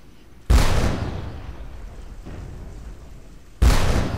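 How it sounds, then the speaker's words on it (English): Cannon fire in the historical shooter game Darkest of Days: two loud, booming blasts about three seconds apart, each trailing off into a rumbling echo, with no talking. "How a cannon can reload this fast is beyond me."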